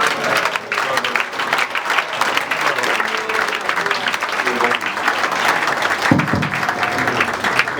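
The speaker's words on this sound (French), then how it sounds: "Et nous acclamons le Seigneur." A congregation at an investiture ceremony bursts into sustained applause and acclamation, dense clapping mixed with raised voices and cheers filling the hall throughout.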